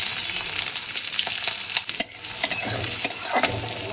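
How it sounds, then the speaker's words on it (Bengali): Chopped onion frying in hot oil with a steady sizzle, broken by repeated clicks and scrapes of a spatula stirring against the pan, close and fairly loud. "পেঁয়াজ ভাজা হয়ে এসেছে"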